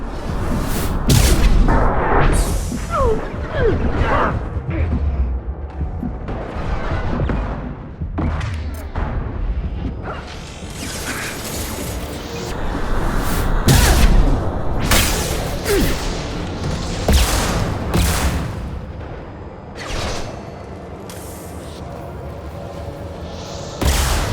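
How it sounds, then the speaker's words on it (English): Heavy combat in the Mass Effect 2 video game: repeated booms, gunfire bursts and whooshing impacts in dense, loud succession, with a few short voice shouts mixed in. "Taking heavy fire!"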